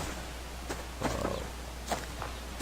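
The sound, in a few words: wolf growling in the video game Subsistence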